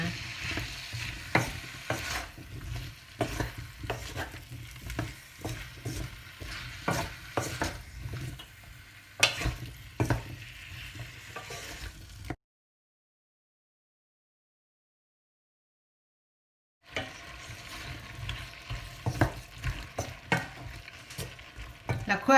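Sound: stir-frying pineapple for chicken pineapple curry in pan

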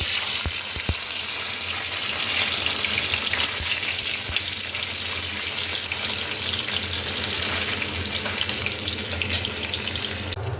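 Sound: paneer frying in mustard oil in a kadai

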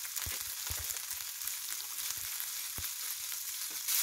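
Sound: green peas cooking and stirred in a pan for quinoa poha

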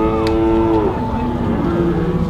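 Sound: dairy heifers mooing at a livestock auction

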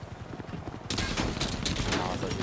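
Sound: gunfire in a video game

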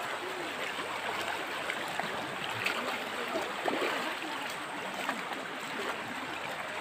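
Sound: river water flowing

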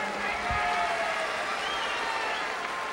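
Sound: fans applauding in baseball stadium

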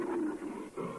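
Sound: hungry lions roaring

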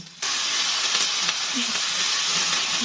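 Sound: ginger, onion and garlic frying in pan

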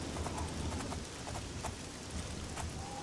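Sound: horse hooves clip-clopping in video game Oblivion

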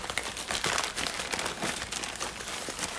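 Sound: opening a package wrapped in lots of tape

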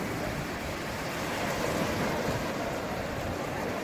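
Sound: sea waves on sandy beach in Chanthaburi

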